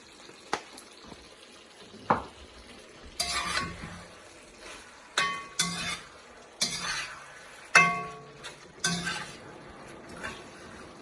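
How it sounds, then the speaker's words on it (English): Braised pork belly sauce, seasoned with sugar and sesame oil, simmers in a pan while it reduces, broken by intermittent bursts of stirring, scraping and sizzling at close range, with quiet gaps between them. "Just let it simmer a bit more until you reduce all the sauce."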